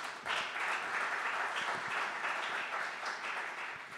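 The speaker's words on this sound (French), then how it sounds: "Je pense que nous pouvons applaudir Guy Defelcourt." An audience at a French identity and sovereignty forum breaks into applause, a steady wash of many hands clapping that holds evenly for several seconds, moderately distant.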